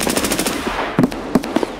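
Gunfire in the shooter game Escape From Tarkov: a quick run of rapid shots followed by a few sharper, separate bursts, loud and close with no talk over them.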